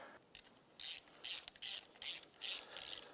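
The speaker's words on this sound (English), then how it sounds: "Now let's get our throttle body boots tightened down" A hand ratchet tightens the clamps on a throttle body's rubber boots, sounding as a series of short, close, rasping clicking bursts at an uneven pace, alone with no talk.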